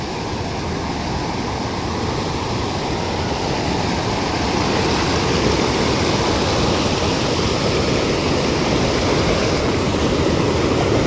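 Loud, steady roar of a strong, rushing river, broad and unbroken throughout, close by with no other sounds standing out.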